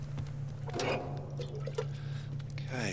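Water poured in the survival game Subsistence, a light trickling and dripping that runs in short bursts over a steady low hum, with faint speech-like sounds in places.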